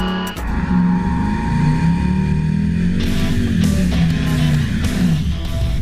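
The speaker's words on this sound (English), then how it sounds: "now, with triple the horsepower, we're gonna find out how quick this car can really go" An El Camino fitted with a swapped Jaguar engine making about 700 horsepower roars loudly as it accelerates, its revving engine note rising and falling and building toward the end, with no one speaking.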